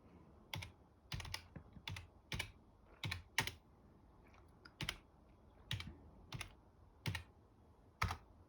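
Typing on a computer keyboard: about a dozen sharp, separate key clicks, some paired, in an uneven rhythm against a quiet background, close and fairly faint, with no talking.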